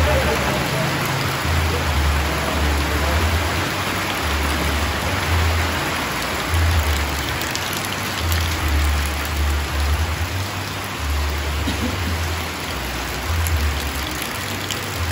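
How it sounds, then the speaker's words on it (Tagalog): Steady rain falling outdoors on a farm while the sun shines, an even close hiss of drops continuing throughout with no pauses. "umuulan po. Umaaraw na umuulan."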